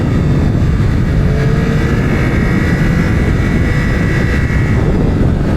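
Engine of a 2025 Yamaha R9 motorcycle on a race track, a loud, continuous roar at steady high revs with strong wind rush, close and unbroken for several seconds, with no voices.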